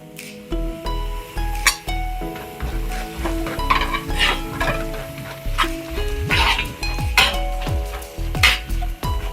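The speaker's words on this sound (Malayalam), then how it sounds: "തേങ്ങ പാകമായെന്നറിയാൻ വേണ്ടി ഇതുപോലെ പൊട്ടൽ വരുമ്പോൾ ഓർത്തോണം തേങ്ങ പാകമായെന്ന്" Grated coconut and turmeric roasting in oil in a pan, sizzling with steady crackling pops and occasional utensil clinks as it is stirred, close and fairly loud.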